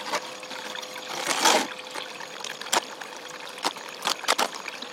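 Water running steadily through a gold panning sluice outdoors, a continuous trickling flow with a brief surge and a few sharp splashy clicks, moderately quiet and with no talk.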